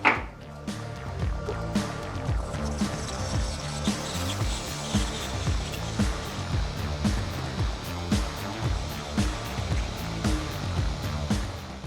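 Lathe parting off a workpiece in back gear: a steady close mechanical hum with rhythmic low thumping and a grinding, hissy cutting noise running continuously throughout, with no talking.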